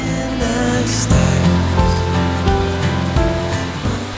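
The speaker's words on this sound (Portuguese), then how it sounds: "A Skadrinskij Buk é a mais longa e mais visitada cachoeira do Rio Krka" Broad, steady rush of falling water at Skradinski Buk, the long cascading waterfall on the Krka River in Croatia, loud and continuous, heard close up with no talking.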